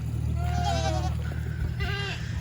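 Goats on a farm during kidding season bleat twice, a wavering call and then a shorter one, fairly close over a constant low hum.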